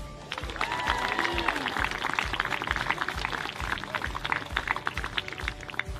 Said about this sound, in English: please give one more round of applause for our top 10 students